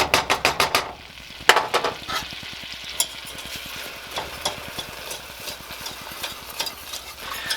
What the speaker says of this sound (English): add in a 1/4 cup of flour and just keep on mixing here